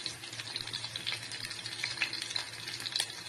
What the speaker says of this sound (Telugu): తాలింపు పెట్టుకుందామండి